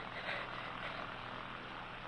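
A light aircraft comes in to land in a radio drama, with a steady droning engine and airflow rumble, moderately loud and unbroken, heard alone.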